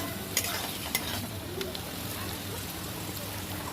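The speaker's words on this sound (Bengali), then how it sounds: "কড়াই আরেকটু তেল দিয়ে ওর মধ্যে রসুন আর আদা কুচিটাকে দিয়ে একটু হালকা ভেজে নিই" Garlic, ginger, onion and chopped vegetables hiss in hot oil in a wok for fried rice made from leftover rice, a steady close sizzle broken by a couple of sharp spatula clicks early on.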